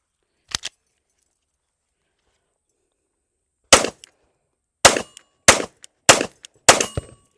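A 9mm SIG P365X Macro pistol fires one shot, then after a pause a quick string of five sharp, loud reports with short ringing tails, near and outdoors.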